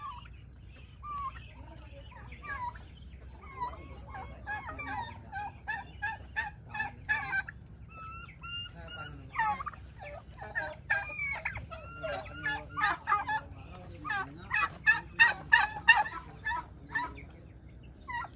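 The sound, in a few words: turkeys gobbling on a farm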